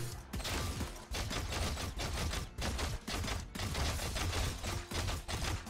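Rapid bursts of rifle fire from Valorant aim drills, close and loud, come in repeated clusters of quick shots separated by brief pauses, with no talking.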